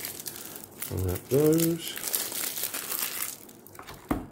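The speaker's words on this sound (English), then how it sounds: "So let's unwrap" Sealed packs of adventure map cards are unwrapped up close, their plastic wrapping crinkling and tearing in several loud bursts, with a voice speaking briefly in between.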